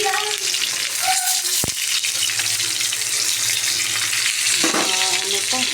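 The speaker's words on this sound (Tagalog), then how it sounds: "Malapit na maluluto ang ating piniprito ng isda" Fish frying in a pan gives a loud, steady sizzle and crackle close by, with a sharp knock partway through and faint background sounds underneath.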